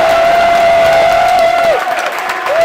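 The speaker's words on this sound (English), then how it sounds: "one more round of applause for Braden" A party convention crowd claps and cheers loudly and continuously, a dense roar of applause with a sustained whistle-like tone riding above it before it begins to thin out.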